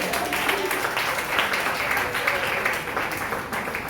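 A church congregation applauds steadily for several seconds, a dense, continuous clapping at fairly loud level with voices faintly mixed in.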